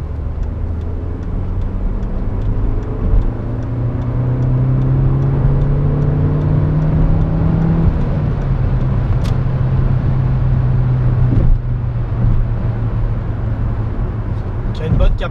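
A 2002 Audi A3 8L 1.8T 150 hp three-door accelerating on the road, heard from inside as a rising engine whir that climbs steadily then levels off, with tire and road noise underneath.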